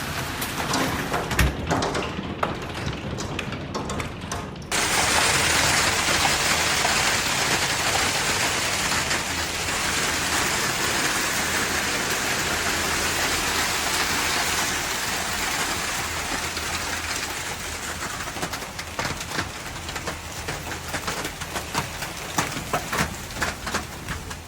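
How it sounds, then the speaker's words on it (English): Golf ball-sized hail pounds down in an Oklahoma hailstorm as a dense, roaring patter of impacts. The onset is broken and clattering, then it turns into a loud, sustained wash of strikes with scattered sharper hits near the end. "Powerful storm systems carrying hail swept across Oklahoma City"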